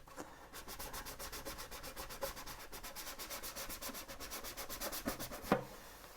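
Sandpaper rubbing steadily back and forth over the hull of a 1/400 scale Queen Mary 2 model ship, a continuous rhythmic scratching of even strokes, close and fairly quiet, with a couple of sharper knocks near the end.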